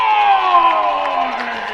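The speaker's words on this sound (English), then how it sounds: "Statesman crowd trying to get into it here, trying to keep the Crusaders off the board before the break" Delta State home crowd at a college football stadium cheering and shouting during the game, a loud continuous roar with sustained whoops, heard briefly.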